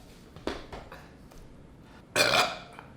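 A single loud, close burp after drinking a lot of Coke, preceded by faint smaller throat noises and quiet room tone.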